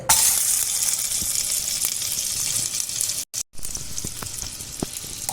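Ghee and butter melt into hot coconut oil inside a cooker for a stew, a continuous close sizzle and hiss with a few faint clinks and two brief dropouts.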